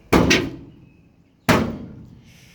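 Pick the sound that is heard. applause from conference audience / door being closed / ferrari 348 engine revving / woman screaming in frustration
door being closed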